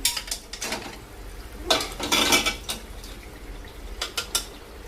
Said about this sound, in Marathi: आता टाकते याच्यात चिकन बॉईल केलेलं।